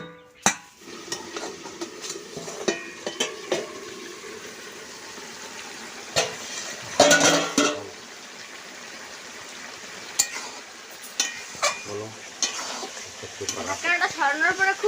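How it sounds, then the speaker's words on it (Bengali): Potatoes with a little added water cook in a covered pot in a village kitchen, giving a low sizzle with scattered clinks and scrapes of utensils against the pot, while a voice murmurs toward the end. "আলুটা সেদ্ধ হওয়ার জন্য 10 মিনিট ঢাকনা দিয়ে রাখবো।"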